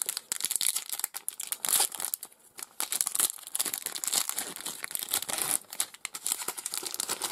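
A Pokemon Sun & Moon card booster pack torn open, with loud, close crinkling and tearing of the foil wrapper continuing in dense bursts for several seconds, no talking.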